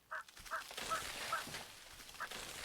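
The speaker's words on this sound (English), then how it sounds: "Look at these turkeys." Turkeys in the colony-building game Settlement Survival give several short honking gobbles at irregular intervals, faint against a soft game background.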